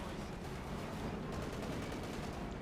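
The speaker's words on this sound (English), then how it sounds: "gets a few hits off there with the 30mm flak" Rapid 30mm flak fire rattles in a Company of Heroes 2 battle against an M20, a dense burst of repeated shots that is faint and steady throughout.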